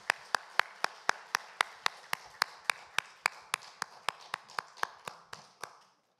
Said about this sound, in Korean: 그 영광의 박수 올려드립니다.